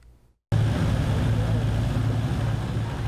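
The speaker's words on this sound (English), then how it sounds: "I got to run some excavators, some skid steers, some tractors out here." Farm equipment engines running at a nursery equipment rodeo for students at Pack's Nursery in Boaz, with excavators, skid steers and tractors, a loud continuous low diesel rumble cutting in abruptly after a moment of faint talk.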